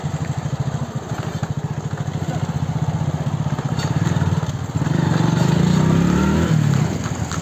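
A motorcycle engine runs steadily on a highway, a close, loud, pulsing chug that grows deeper and heavier partway through, with no talking over it.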